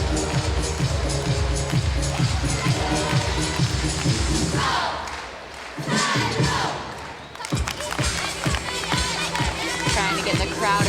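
A crowd cheering and shouting at a college gymnastics meet in a large arena, loud and sustained throughout, with a brief dip before surging again amid rhythmic clapping.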